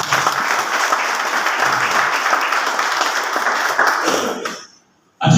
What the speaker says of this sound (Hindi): इन सभी अपलाइनों के लिए एक बार जोरदार तालियां।